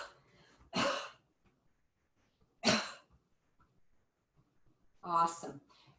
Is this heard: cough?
yes